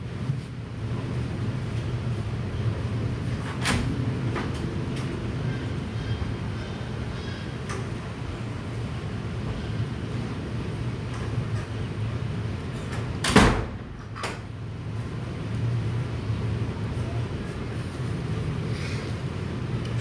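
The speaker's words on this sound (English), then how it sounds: "Somebody just knocked on my hotel door there." A sharp knock lands on a hotel room door, one loud hit followed by a fainter second one, cutting through a steady low room hum with a few faint clicks earlier.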